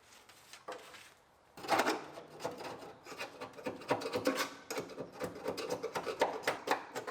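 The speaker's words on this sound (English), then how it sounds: "Scrape it all out of there to expose our welds and our seams." Seam sealer scraped off the body of a 1965 Mustang, a close rasping scrape in uneven strokes after a short quiet start, continuing steadily with no talk.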